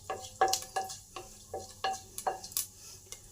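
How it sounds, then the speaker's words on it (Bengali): Panch phoron spices fry in hot mustard oil in a pressure cooker, with a soft sizzle under a series of rhythmic stirring scrapes, close and clear, with no talk. "পাঁচফোড়নটা ভাজা হয়ে এসেছে"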